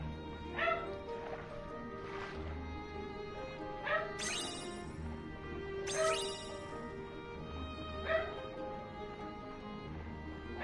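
A house dog gives several spaced yips and whimpering barks, moderately near, over steady background game music with little talk.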